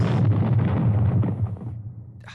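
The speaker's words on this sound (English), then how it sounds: "Explosion." A single deep explosion booms out and rumbles away over about two seconds, loud at first and fading, with no talk over it.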